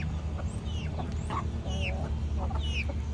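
Hens cluck and chirp near feeding grain, with short high calls scattered over a steady low farmyard hum and no speech.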